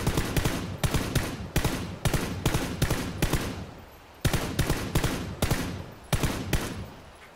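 Rapid automatic gunfire in PUBG rings out in several long bursts of loud, closely spaced shots, each burst separated by a short pause, with no talking over it.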